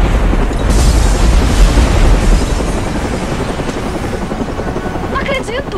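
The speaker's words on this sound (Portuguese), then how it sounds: "Vamos pegar aqui carona com helicóptero." A helicopter in the Batman Arkham Origins video game, a loud, continuous rotor and engine roar filling the whole stretch with heavy low rumble and no break.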